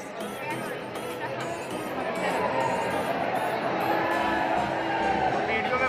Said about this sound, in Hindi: आप देख सकते हैं भीड़ का यहाँ पर क्या आलम है